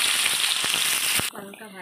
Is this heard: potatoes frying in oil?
yes